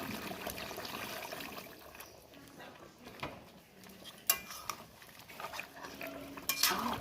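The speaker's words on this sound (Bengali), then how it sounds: "এখন আমি দিয়ে দিচ্ছি গরম জল" Hot water is poured into a pot of browned home-raised chicken for biryani, giving a soft steady hiss and gurgle with a few sharp knocks of a spoon against the pot.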